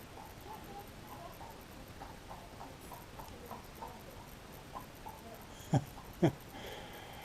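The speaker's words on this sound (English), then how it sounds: "this is the countryside, so two horse riders going by" Two ridden horses' hooves clip-clop on a countryside road at an easy walking rhythm, fairly faint and a little distant, followed near the end by two sharp louder knocks.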